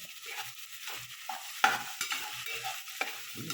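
Aromatics with fish bagoong are sautéed for mung bean stew, giving a close, busy stir-fry sound with a sizzle and repeated scrapes and clacks of a spatula against the pan.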